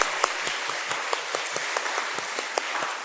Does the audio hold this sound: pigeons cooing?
no